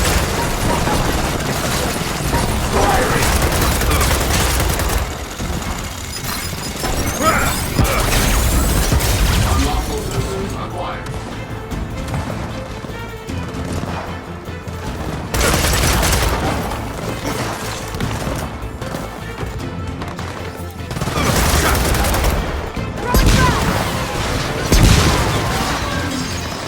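Gunfire and explosions from the video game Gears of War 4, loud bursts of shooting, crashes and booms in waves across the stretch, with brief lulls between heavy volleys and a game voice announcing commands.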